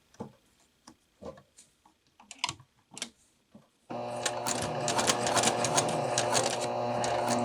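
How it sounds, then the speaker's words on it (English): Sewing machine stitching a Velcro closure: a few slow, separate needle clicks first, then the motor running steadily into a loud, fast, continuous rattle of stitches, close by. "Walk to the corner, needle down, lift the presser foot"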